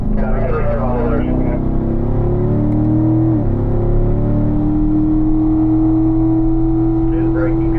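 A race car engine drones loud and close from inside the cockpit, its pitch climbing steadily under throttle as the car drives out of a turn on a track.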